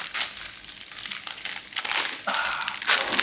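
Plastic wrapping on Mawlid sweets crinkles and crackles up close as it is pulled open, in a few irregular rustling bursts.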